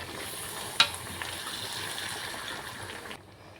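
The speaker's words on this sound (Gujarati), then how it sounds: "હવે આપણે તેને ધીમે ધીમે આંચે હલાવશું અને થોડું રહેવા દેશું" Chopped mixed vegetables for vegetable biryani fry and get stirred in a pan over a low flame, giving a steady soft sizzle with one sharp clink of the spoon near the start, then fading out.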